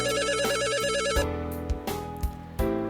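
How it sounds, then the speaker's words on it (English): A telephone rings for an incoming call with a bright electronic ringtone that repeats its pattern, then cuts off and is followed by a few soft clicks and thumps. "there was a phone call"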